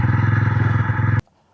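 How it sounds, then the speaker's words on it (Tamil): Bajaj Pulsar N125 125cc motorcycle engine idling with a steady, loud, close pulsing throb that cuts off abruptly, leaving near silence. "வெறும் கிளச்சை மட்டும் பிடிச்சா போதும், வண்டி ஸ்டார்ட் ஆகிடும் உங்களுக்கு."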